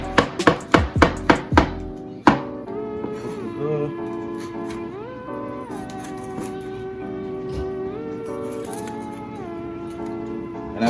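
Red peppers, onions and mushrooms chopped on a board for veggie chow mein: a quick burst of about seven sharp, close knife strikes, followed by a steady musical backdrop.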